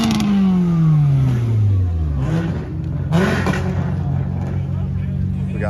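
At a Cars and Coffee meet, a car with a loud exhaust comes off a revving roar that sinks in pitch, then barks into another rev and settles into a rumbling idle close by, with voices talking over it.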